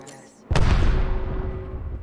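An Arc Star grenade from the Apex Legends video game goes off with a sudden loud electric blast after a quiet moment, then a sustained crackling, rumbling tail that slowly fades.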